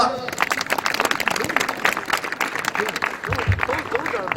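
Applause from the crowd at a district foot-volleyball (jokgu) tournament ceremony in Ulsan, a steady patter of many hands clapping at moderate volume, with a brief low thump near the end.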